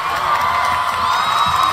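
A crowd at a live event cheers and applauds, a dense, loud, continuous wash of clapping and shouting with no gaps.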